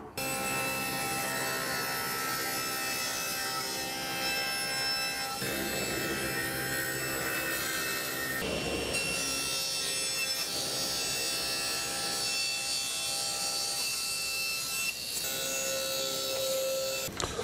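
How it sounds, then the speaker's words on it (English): A table saw with a miter gauge cuts angled edges on a solid walnut box, giving a loud, steady whine of the blade that keeps on through the cut, with a small shift in pitch midway. "I'm going to slice a 20-degree angle at the bottom edge of the box and a 45-degree angle on the top edge of the box."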